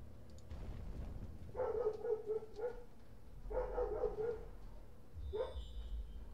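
A puppy barking at trick-or-treaters gives three short bursts of yappy barks and yips, moderately distant, over a steady low background hum.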